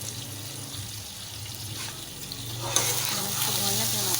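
Chicken nihari with nihari masala frying in a pan, a steady sizzle and stirring that grows louder and brighter midway, with a faint watery hiss underneath.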